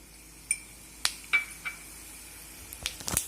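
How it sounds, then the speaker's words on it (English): Fenugreek and coriander seeds being stir fried in 1.5 tablespoons of oil in a pan, heard as scattered sharp clinks and scrapes of a spoon against the pan, with a quick cluster of taps near the end and no one speaking. "Now let's stir fry the methi dana and the dhania, that is fenugreek seeds and"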